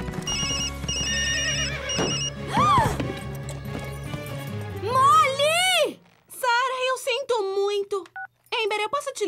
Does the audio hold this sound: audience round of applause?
no